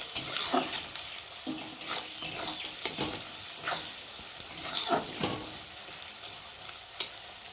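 Country chicken pieces fry in a pan for a curry, giving a close, steady sizzle broken by repeated scraping stirs that come in bursts every second or so.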